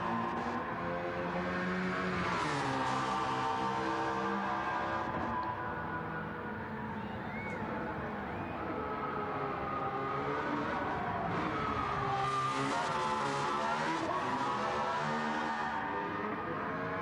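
An Aston Martin Valkyrie racing in Gran Turismo 7 gives a high, harmonic engine scream that rises and falls through gear changes and revs, kept at a fairly quiet level with no talk.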